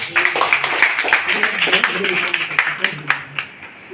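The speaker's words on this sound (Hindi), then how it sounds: "दिल से एक शानदार ताली इनके लिए बजाएं" An audience claps in a dense, steady round of applause, with individual claps standing out over a murmur of voices.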